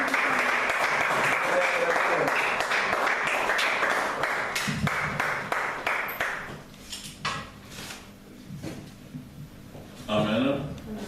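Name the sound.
applause and cheering from a church congregation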